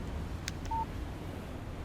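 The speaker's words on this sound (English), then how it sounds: "Text message from Barry" A short electronic phone alert for an incoming text message in the Alan Wake video game, one brief tone over a low background rumble with a couple of faint clicks just before it.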